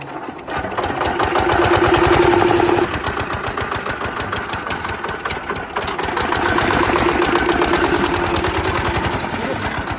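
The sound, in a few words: modified tractor engine running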